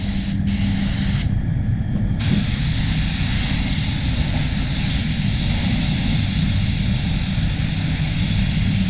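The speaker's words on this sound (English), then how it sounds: "It's just the way this gun sprays." Iwata Supernova spray gun laying down a clear coat, a loud steady hissing rush of air and atomized paint that runs close and unbroken, with two brief gaps in the high hiss early on.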